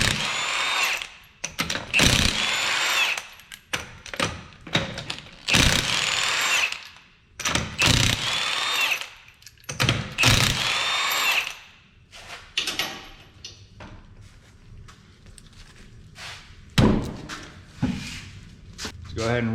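Impact gun spinning off the 21mm lug nuts on a 2013 Scion tC front wheel, several loud bursts of whirring and rattling near the mic, with gaps and a few clanks between them.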